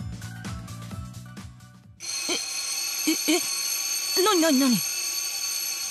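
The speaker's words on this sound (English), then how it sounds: "Out of nowhere, the fire alarm goes off, a shrill, blaring sound." A shrill, blaring fire alarm rings out in the visual novel game 9-nine-, a loud continuous electronic tone that cuts in abruptly and holds steady while a voice briefly speaks over it.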